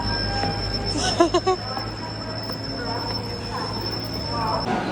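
Train noise at a station platform: a steady rumble with a high metallic whine, brief squealing tones early on, and voices in the background.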